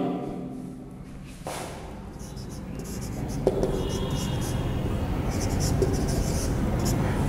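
Handwriting during a Bengali grammar lesson, a continuous soft scratching and rubbing of writing across a surface that grows slightly louder over several seconds, with faint background noise.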